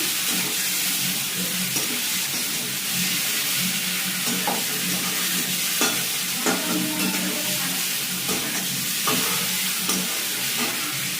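Chicken curry with papaya sautéing in a pan: a constant loud sizzle fills the background while a spoon scrapes and stirs in short, uneven strokes, close up and with no voices.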